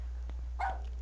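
A single short bark from a dog in the game Rule of Rose, faint and slightly distant over a steady low hum.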